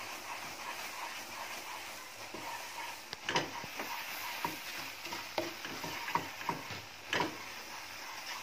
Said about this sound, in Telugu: ఇప్పుడు ఇలా కలుపుతూ కొద్ది కొద్దిగా పాలు వేస్తూ మనం ఇది మిక్స్